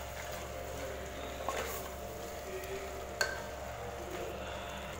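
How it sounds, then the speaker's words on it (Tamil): Tomatoes fry with masala in a pan for Chettinad chicken curry, a quiet, steady sizzle with a couple of sharp clinks from the stirring utensil and no talk. "தக்காளி பார்த்திங்கன்னா நல்லா வதங்கணும்."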